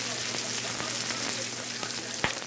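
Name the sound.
pancetta frying and sizzling in a pan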